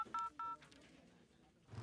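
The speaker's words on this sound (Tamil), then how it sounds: "இரு நானே அந்த லூஸ்க்கு ஃபோன் பண்ணி வர சொல்கிறேன்" Two short steady DTMF keypad tones from a phone being dialed, close and fairly quiet, followed by a brief stretch of faint background noise.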